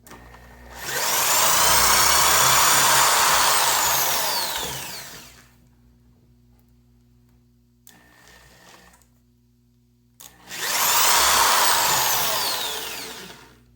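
A handheld power drill whirs loudly for about five seconds widening holes for guitar hardware, stops, a few faint handling noises follow, then the drill runs again briefly.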